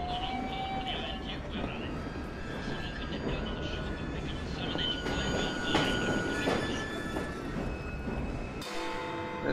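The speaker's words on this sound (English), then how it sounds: "I'm about to do this runaway train thing" A runaway train in Assassin's Creed Syndicate rumbles steadily, wheels grinding and squealing with metallic tones over a dense, continuous roar, up close and loud, ending in a sudden shift near the end.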